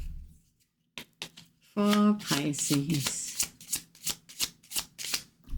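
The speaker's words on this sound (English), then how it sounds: "we're going to pull some of the Love Me or Love Me Not Oracle cards" Love Me or Love Me Not oracle cards are shuffled by hand in a rapid series of close riffling flicks and slaps, with a voice briefly speaking in the middle.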